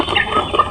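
Farm chickens cluck in a short, close burst of several quick calls over a soft, steady background.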